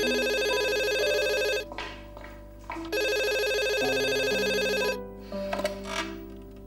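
A telephone rings in a domestic drama scene, with repeated loud electronic bursts of about a second and a half broken by short pauses and no talking. Quiet background music runs underneath.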